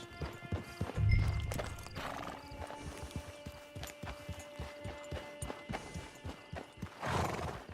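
Horse hooves clip-clop steadily through a Red Dead Online game scene near a camp, with a loud whinny early on and another neigh near the end over a faint ambient background.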